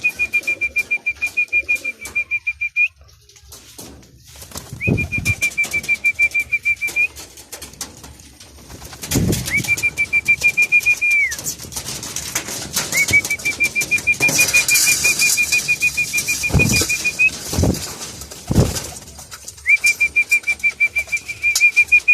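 Young racing pigeons at a loft around feeding time with breeder mix, giving repeated steady whistle-like tones in several bursts, with occasional wing flaps and thumps from nearby birds. No one speaks.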